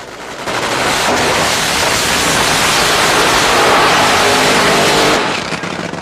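A Blue Max funny car engine with cackling open pipes, a loud, harsh, crackling roar that holds steady for several seconds at close range before cutting off.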